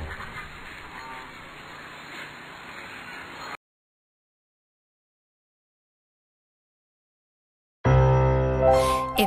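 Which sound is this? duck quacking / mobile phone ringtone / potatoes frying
duck quacking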